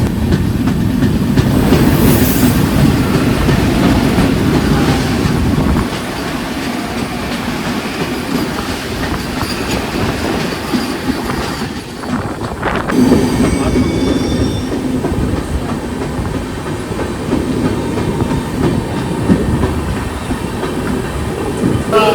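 A train, the Bhubaneswar–Visakhapatnam Vande Bharat Express, rolls past loudly and continuously, with rumbling wheels, rail clatter and a high wheel squeal near the start.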